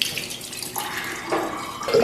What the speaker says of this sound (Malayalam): കരിക്കിന്റെ വെള്ളം എടുത്ത് ഒഴിച്ചു നോക്കട്ടെ